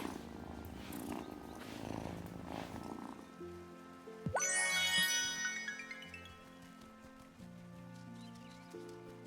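A cat purrs in the Wylde Flowers video game, a low soft rumble under gentle game music, followed by a bright rising chime and lingering ambient tones.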